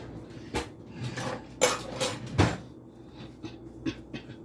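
Fork clinking and scraping against a bowl while mixing salmon croquette mixture, a string of irregular close taps and scrapes with no talk.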